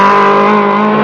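A Porsche rally car engine races in the 1974 Lebanon–Syria rally. The motor holds a loud, sustained, steady high-revving drone, very close and with no voices.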